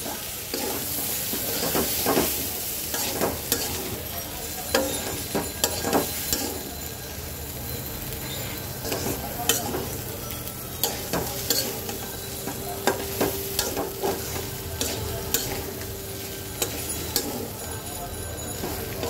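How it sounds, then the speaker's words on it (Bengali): Prawns with onion and spices fry in a pan for a chasni dish. A constant loud sizzle is punctuated by frequent irregular scrapes and clacks of the spatula being stirred around, with no talk. "সুন্দর করে ভাজা ভাজা করে নেব"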